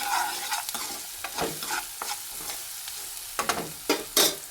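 Food seasoned with salt being stirred in a hot pan, a spoon scraping and clinking in irregular bursts over a steady low sizzle, close and alone without talk.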